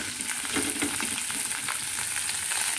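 Well-drained bottle gourd leaves fry in a pan, giving a steady, dense hiss and crackle of oil with faint stirring textures throughout, fairly quiet and without speech.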